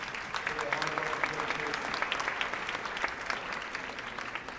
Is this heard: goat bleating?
no